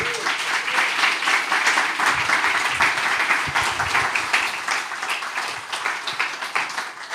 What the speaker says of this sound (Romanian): vă invit să mai aplaudați odată invitații noștri